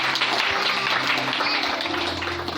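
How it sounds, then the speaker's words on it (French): A church congregation applauds and cheers in praise of the Lord, with steady, dense clapping and mixed voices throughout and a slight fade toward the end. "Est-ce qu'on peut acclamer le Seigneur?"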